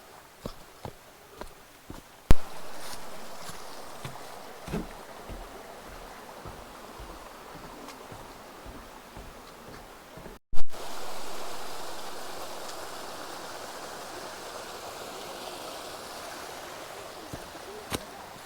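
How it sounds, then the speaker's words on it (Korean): A mountain stream runs through a valley, a steady broadband rush of water heard continuously, with a few sharp footstep-like knocks early on and two loud bumps breaking in. "작은 굴목재에서 내려서니까요, 이렇게 계곡을 만났습니다"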